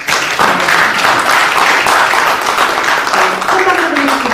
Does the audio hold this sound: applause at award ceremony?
yes